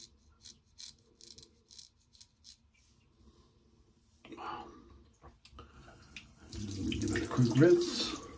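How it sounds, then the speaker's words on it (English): Running tap water rinses a straight razor, a Morris razor with a Løthur Black handle, rising as a steady splashing rush at the end after quieter handling sounds and brief talk. "Rinse it off."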